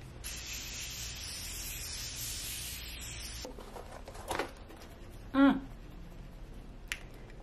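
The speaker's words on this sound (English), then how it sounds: "To finish everything, I'm gonna use my favorite setting spray, and this is from Morphe, the Continuous Setting Mist." Morphe Continuous Setting Mist setting spray hisses out in a steady, close burst for about three seconds during a makeup finish, followed by quieter rustling and a brief snap-like tap.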